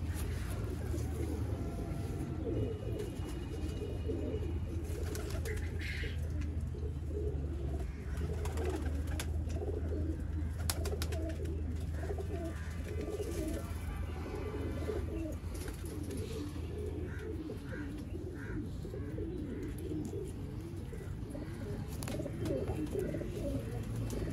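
Pigeons coo steadily and softly throughout, layered low murmuring calls over a continuous background hum, with occasional faint chirps.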